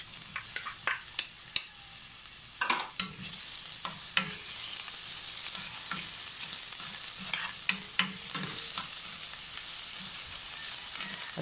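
Onions sauté in hot oil in a pan with a steady sizzle, while a utensil makes repeated nearby scraping and tapping strokes as they are stirred, and no one speaks.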